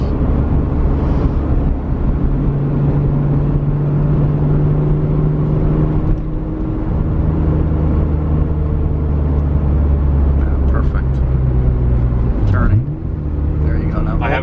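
An Acura NSX convertible cruising in second gear, a steady low engine drone with road rumble throughout, close and constant, while people talk over it.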